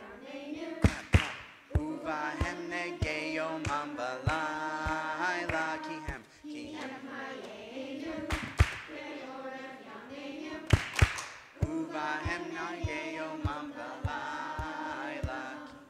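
Congregation at Or Tzion clapping hands in a steady rhythm along with a sung Hebrew song, sharp claps spaced through the singing with voices continuing throughout.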